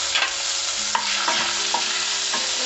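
Fresh coriander is dropped into hot tempering oil for a mushroom masala curry and stirred, giving a steady sizzle broken by several close scraping strokes of the spoon in the pan.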